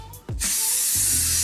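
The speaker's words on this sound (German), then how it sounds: "Und ganz einfach drauf sprühen" Volume lift hairspray sprayed onto styled hair, a sustained bright aerosol hiss that starts abruptly after a short click and keeps going, close and steady with no talk.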